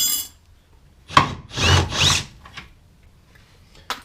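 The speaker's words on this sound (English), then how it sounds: "Where's me rattle gun?" Removing suspension bolts from a Holden VP Commodore with a rattle gun (impact wrench): a sharp burst, then two longer loud bursts close by, with quieter pauses between.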